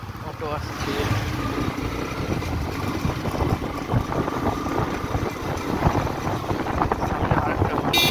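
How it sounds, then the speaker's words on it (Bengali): An auto-rickshaw passes on a winding road, its small engine droning and buzzing steadily close by, mixed with wind rush against the microphone and a voice speaking over it. "অটো আসছে"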